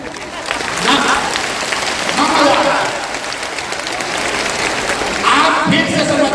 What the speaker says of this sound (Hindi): अगर बुझाता तो ताली जोर से बजता ना।